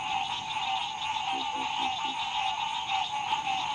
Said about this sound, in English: in the cacophony of frogs and the hissing of snakes